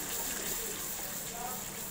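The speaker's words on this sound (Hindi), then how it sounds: "इसमें थोड़ा सा और पानी डलेगा।" Water pours steadily into a cooking pan while preparing khandvi gravy, giving a continuous, even gushing splash throughout with no distinct breaks.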